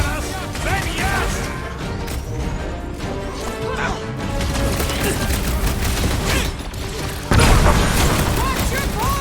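Gunfire and explosive booms from a firefight against Novacore forces in the Guardians of the Galaxy video game, loud and dense throughout with a heavy blast near the end, mixed under music and character dialogue.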